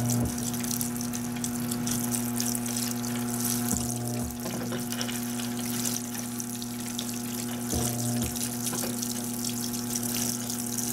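Water streaming steadily into a Panasonic 18kg washing machine washing a king-size comforter, a continuous close rush of pouring water over the machine's steady hum, with no talking.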